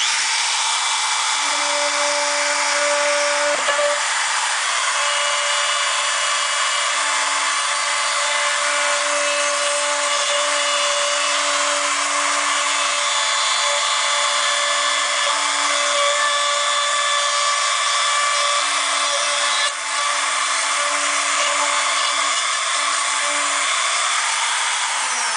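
A power tool cuts steadily through the bed cap rail of a Dodge Ram pickup during a bullring installation, a continuous high whine running for about twenty-five seconds with a brief dip near the end.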